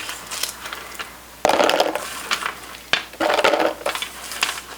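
Light, crunchy freeze-dried gummy bears rattle and clatter into a container in a few quick pouring bursts, close up.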